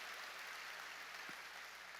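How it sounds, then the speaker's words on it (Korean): Steady applause from a church congregation during a New Year's Eve service, a broad continuous wash of clapping at moderate level with no speech over it. "박수로 하나님께 영광 돌려요."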